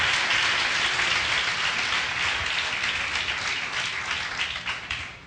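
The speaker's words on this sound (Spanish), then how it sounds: "¿Cuánto le dan un aplauso al Señor?" A church congregation breaks into strong, sustained applause, a thick hiss of many hands clapping that gradually thins and fades toward the end, with no speech over it.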